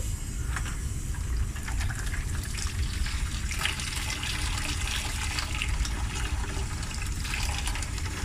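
Lukewarm water gushes steadily from a tap into a bucket for washing microfiber towels, a continuous close splashing fill with no pauses and no talk.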